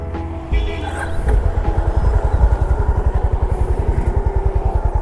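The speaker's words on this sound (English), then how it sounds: "Just quickly give you the exhaust note" A 2024 Honda CB350 motorcycle engine rumbles close by, its exhaust popping in a fast, steady throb that builds slightly after starting.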